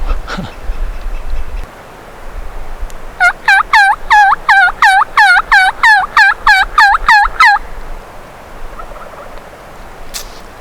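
A rapid burst of about a dozen gobbles from a wild turkey, loud and rattling, rising out of quiet outdoor spring background.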